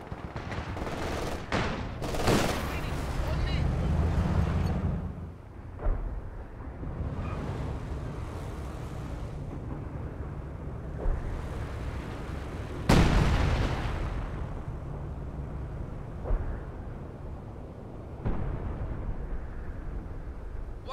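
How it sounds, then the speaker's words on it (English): An artillery barrage in Company of Heroes 2 pounds away, with sharp heavy impacts and booming blasts over a rumbling battlefield wash, some hits close and others farther off. "Unleash an artillery barrage."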